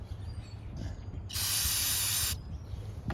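A single one-second burst of aerosol brake cleaner sprayed onto a 2007-2010 Cadillac SRX rear brake, loud bright hiss close by, starting and stopping abruptly against quiet shop background.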